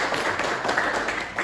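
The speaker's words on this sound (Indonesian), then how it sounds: "tepuk tangan buat Revi." A classroom of students claps for a classmate who has just presented, a close, even patter of hands that holds steady through the brief moment.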